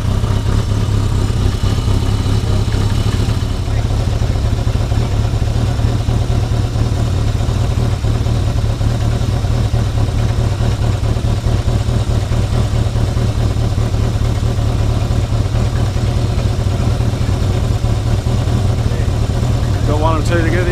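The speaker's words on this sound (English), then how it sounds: "Give it a blip on the throttle." A Yamaha XS1100 motorcycle engine idles loud and close with a steady throbbing rumble and mechanical clatter, settling after a throttle blip, while people talk over it.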